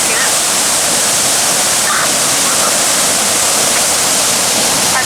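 Water gushing from a broken fire hydrant after a hit-and-run crash in downtown San Luis Obispo, a loud, constant roaring rush like a waterfall filling the whole clip.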